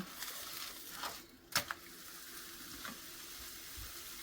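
Soft, steady sizzling of thin pancake (crepe) batter frying in a pan, fairly quiet, with a couple of faint clinks partway through.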